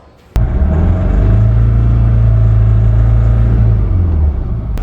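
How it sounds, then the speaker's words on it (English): A car with a DPF fault starts up and runs with a loud, steady engine drone and a deep low hum, holding constant for several seconds before easing slightly at the end. "I will include a short clip here, what a car with a DPF fault does."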